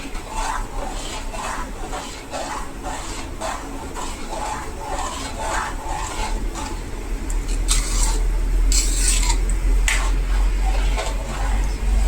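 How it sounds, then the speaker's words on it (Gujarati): Sago and potato papad mixture with chilli flakes is stirred and mixed in a bowl with repeated soft scraping and clinking strokes at a steady rhythm, close by, with no voices. "હવે મિક્સિંગ કરી લેશું."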